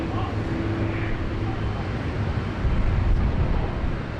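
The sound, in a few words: airliner departing Sydney Airport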